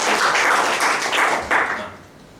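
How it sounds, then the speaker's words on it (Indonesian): Church congregation clapping for God in a steady burst of applause, loud and dense with a few swelling surges, tapering off toward the end with no talk. "Tepuk tangan buat Tuhan."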